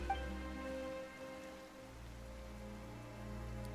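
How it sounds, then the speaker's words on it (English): Rain falling in the Genshin Impact video game, a soft continuous patter beneath a low sustained musical drone, quiet and steady. "Why is it raining all of a sudden?"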